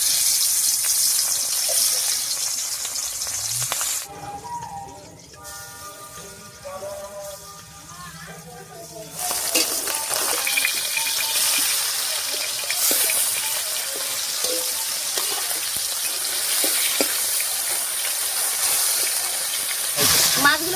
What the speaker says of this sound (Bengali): এবারে কড়াইয়ে সরষের তেল দিয়ে মাছগুলো ভেজে নিচ্ছি